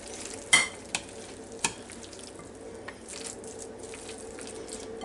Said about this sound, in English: And then we're going to just stir everything together.